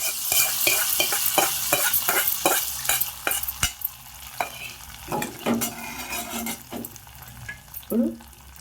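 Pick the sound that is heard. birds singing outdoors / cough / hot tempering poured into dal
hot tempering poured into dal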